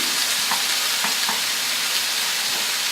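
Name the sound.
ham, tomatoes, herbs and cheese sautéing in a pan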